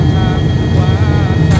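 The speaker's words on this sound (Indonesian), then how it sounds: "Penerbangan Jogja ke Halim menggunakan pesawat baling-baling atau pesawat ATR" Cabin drone of an ATR turboprop airliner in flight on a Citilink trip from Jogja to Halim, a loud, constant low propeller hum with steady tonal bands and no break.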